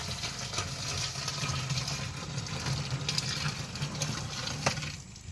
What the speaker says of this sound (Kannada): ಈಗ ಗೋಮೂತ್ರವನ್ನು ಅದರಲ್ಲಿ ಬೆರೆಸಿ